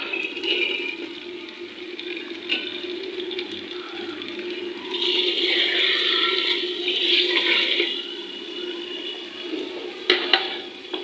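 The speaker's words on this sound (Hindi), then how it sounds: "तो डालने लगी हूँ मैं अब टमाटर।" Tomatoes go into a pot of frying onions for a potato chicken curry, setting off a steady sizzle and hiss that swells midway as the juices hit the hot oil, with occasional clinks and no talking.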